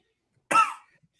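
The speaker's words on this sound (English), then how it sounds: "it's nothing else but that cough" A single short, sharp cough, close and isolated against near silence.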